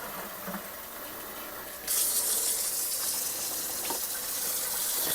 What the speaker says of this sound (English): And then I'm going to add a bunch of water.